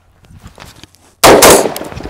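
A single sharp gunshot from a Faxon carbine cracks out loud and close on an outdoor range, following a few quiet shuffles and clicks, then rings down into a lingering echo.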